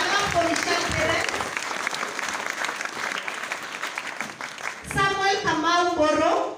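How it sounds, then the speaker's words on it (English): Graduation ceremony audience breaks into loud, sustained applause for a graduate; a voice takes over near the end as the clapping fades beneath it. "A clap for Michelle Perez."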